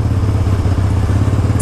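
A 1983 Harley-Davidson Ironhead motorcycle engine idles steadily, a loud close low rumble with a loping pulse and no talk over it.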